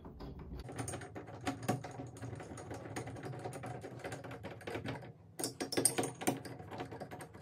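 Phillips screwdriver driving screws into a smart fingerprint door knob, giving soft irregular clicking and ratcheting taps close by, with a denser burst of clicks near the end and no talk.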